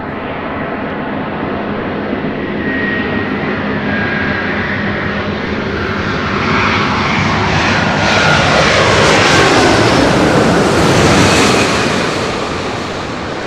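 A Qatar Airways Airbus A350-1000 jet approaching LAX from Doha, a loud roaring whine that swells as the aircraft passes close overhead, then eases slightly, with no talk.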